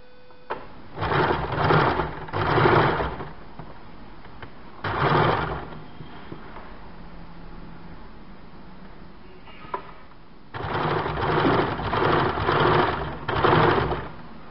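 A sewing machine stitches folded piping onto a single katori cut blouse, running in several loud, steady bursts separated by short pauses.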